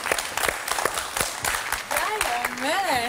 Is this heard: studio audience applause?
yes